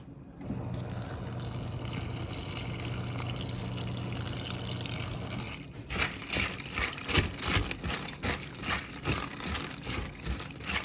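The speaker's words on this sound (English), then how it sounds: "Add some water to this guy's food." Water splashes from a tap, then is poured into a bowl of raw food for a German Shepherd being boarded at a kennel, giving a steady rush followed by choppy, uneven splashing and clinking.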